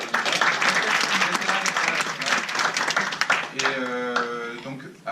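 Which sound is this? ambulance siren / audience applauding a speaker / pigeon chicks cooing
audience applauding a speaker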